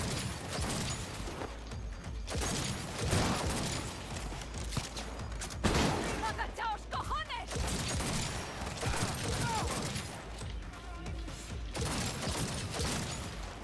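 Sustained gunfire bursts in the video game Cyberpunk 2077, dense and loud throughout with mechanical clatter, overlapping with game music and effects.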